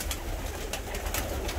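Rostov fancy pigeons cooing inside a crowded coop, soft repeated coos with rustling, close and fairly quiet, no talking.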